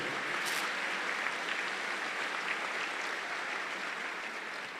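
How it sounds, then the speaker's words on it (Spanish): A church congregation claps steadily throughout, a dense, even wash of applause that holds at a constant level and eases slightly toward the end, with no voices over it. "Denle un aplauso a Dios por eso"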